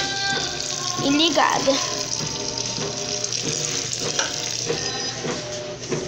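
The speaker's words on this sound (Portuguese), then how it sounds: "deixar a água sair daqui" Water runs steadily from a tap, a continuous hissing splash that holds for the whole stretch, with a person speaking briefly over it.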